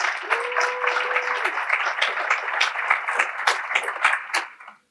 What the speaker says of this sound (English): let's give a round of applause for Miki and all of the rest of the organizers